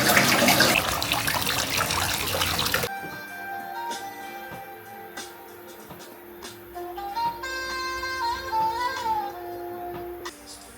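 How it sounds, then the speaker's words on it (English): Hot water gushing from a tap into a bath, loud and steady for about three seconds before cutting off, followed by quieter drips and high tonal sounds like a cat meowing nearby. "I'm gonna put in some hot water."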